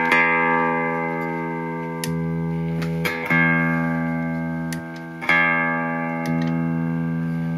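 Electric guitar played through a BOSS PW-3 wah pedal set to rich mode, several sustained notes and chords ringing out and decaying with fuller low end, new attacks every second or two.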